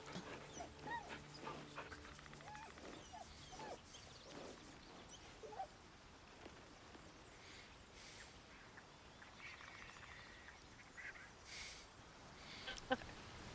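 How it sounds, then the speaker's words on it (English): A puppy at camp in the Baldur's Gate 3 video game whimpers and yips softly amid faint game ambience and light background sounds, with brief sharper yips near the end. "Puppy, I have to pet you."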